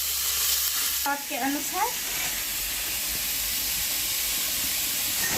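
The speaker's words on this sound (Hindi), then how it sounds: "प्याज फ्राई हो रहा है, इसके बाद मीट डालेंगे।" Meat frying with onions in a pan for a village-style frog recipe, a steady close sizzle and hiss with stirring throughout, while a person talks briefly over it.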